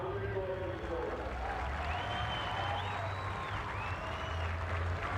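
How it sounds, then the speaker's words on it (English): Crowd cheering and applause roar steadily at a 1995 NMRO mud racing event in Lima, Ohio, greeting a driver after he climbs out of his race car; the noise is distant and continuous, with faint tonal sounds above it. "Acknowledges the cheers from the crowd."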